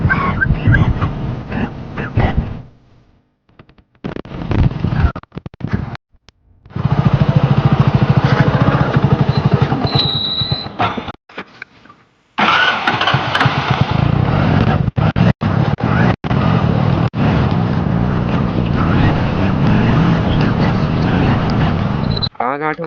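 Hero Splendor motorcycle engine running during a ride, a steady loud drone with gaps where it drops out, with people talking over it at times.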